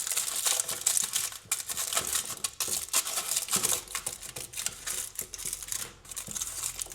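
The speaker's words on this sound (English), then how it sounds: "I'm taping it up with something metal, could get electrocuted here." Metal foil tape being pulled and pressed into place by a decorator on a home-improvement job, giving a busy run of crinkling, crackling and clicking close by, with no talk.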